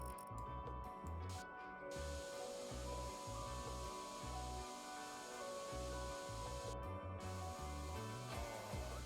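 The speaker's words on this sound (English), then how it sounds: "Select spray and start painting." Spray paint hisses steadily as a PC case is painted red in the video game PC Building Simulator 2, a continuous airy spray under a droning background hum, with no talk.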